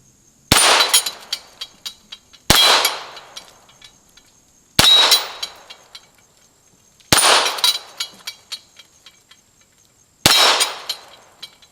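Ruger Mark IV .22 target pistols fire at a target outdoors: five sharp, loud single shots spaced about two seconds apart, each followed by a ringing clang and fading echo.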